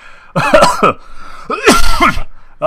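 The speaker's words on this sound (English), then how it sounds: "this persistent cough has been going on for, like, a year now" Two bursts of harsh coughing, close and loud, each a cluster of rough hacks separated by a short pause.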